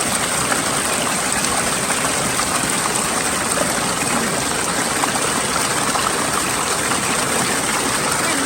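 Steady, loud rush of water at a waterfall stream, a continuous broadband roar filling the whole clip with no pauses or talk.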